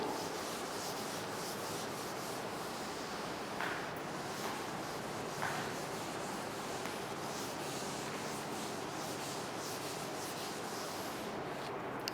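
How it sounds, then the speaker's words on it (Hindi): Steady rubbing of an eraser across a classroom board, a continuous dry scrubbing that runs evenly for several seconds without talk. "let me rub this for you"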